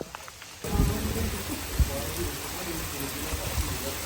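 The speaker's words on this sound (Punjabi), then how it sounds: "ਬਾਰਿਸ਼ ਆ ਗਈ ਬਹੁਤ ਜ਼ੋਰੋ ਸ਼ੋਰ ਨਾਲ ਸਪੀਡ ਦੇ ਨਾਲ" Heavy rain pours down hard and fast in a dense, steady roar with scattered louder splats on surfaces, a loud, close downpour with no clear talk over it.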